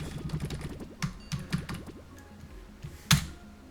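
Fingers type in short bursts of light, close clicks on a computer keyboard during a session of the game TUNIC. The bursts pause now and then, and a single louder keystroke thump lands near the end.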